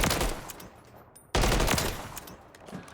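Rapid automatic gunfire in the video game Call of Duty: Modern Warfare 3, two loud continuous bursts of close shots broken by a brief pause, with no talking.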